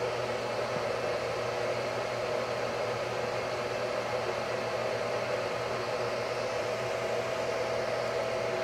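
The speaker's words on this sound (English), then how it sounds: "this battery charger, the fan on it is, you know, a bit loud" Cooling fan of an Ardroit 50A LiFePO4 battery charger runs loud and steady, a constant airy whir with a low hum beneath, unbroken and close for the whole stretch with no talking.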